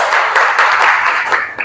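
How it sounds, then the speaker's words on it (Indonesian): Students in an Indonesian classroom clap their hands together in a dense, steady burst that lasts under two seconds, fading slightly at the end, with no talking over it. "Tepuk tangan tuh semua."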